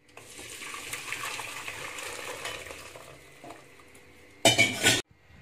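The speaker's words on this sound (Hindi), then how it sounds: "अभी मैं इसको बंद करके छान लूंगी।" Half-boiled cauliflower for gobi manchurian being drained from hot water in a kitchen: a low steady clatter and slosh, then a loud brief splash and pour near the end.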